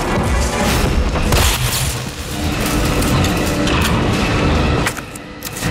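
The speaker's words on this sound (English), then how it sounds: "shoot the generator." A generator explodes after being shot in the 2020 Resident Evil 3 game, a loud booming blast followed by sustained crashing rumble and debris that stays heavy for several seconds before easing slightly near the end.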